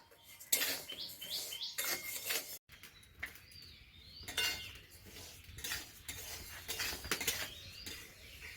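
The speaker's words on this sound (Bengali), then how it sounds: "মুগের ডালটা ভেজে নেব।" Mung dal is dry-fried in a pan and stirred, giving repeated scraping and clinking strokes of a utensil against metal, with faint birdsong behind.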